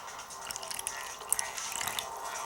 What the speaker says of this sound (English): I'll pour 2 ounces of water in there.